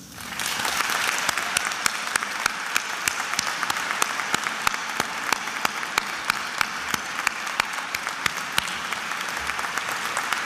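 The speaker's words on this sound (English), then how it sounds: "please rise to accept the congratulations and the applause of this gathering for their outstanding achievements" An audience applauds at the 2023 Encaenia awards ceremony at Fordham College Rose Hill, a loud, sustained burst of dense clapping that rises quickly and continues steadily throughout, with no talk over it.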